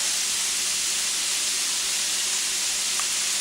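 Bacon slices frying in a pan on moderate heat, a continuous, even hiss of sizzling fat, close and steady throughout with no voices.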